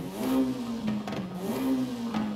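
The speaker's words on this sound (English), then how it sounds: "Jesus, it just revs." A lowered street car's engine on its standard setup revs repeatedly, the close tone climbing and falling in quick blips with a slight crackle, alone without talk.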